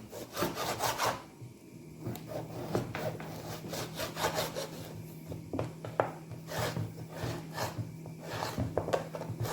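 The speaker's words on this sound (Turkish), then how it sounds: "Yaklaşık 80 gram sucuğum var. Onu da küp küp doğruyorum." Rapid repeated knife chops cubing sucuk sausage on a wooden cutting board, an uneven rhythm of dull taps with a low hum underneath.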